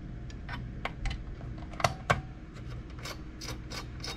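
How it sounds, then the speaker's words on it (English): A small screw being turned out by hand, with faint intermittent ticks and light metallic clicks, two sharper clicks near the middle, at close range against a quiet background. "And unscrew it."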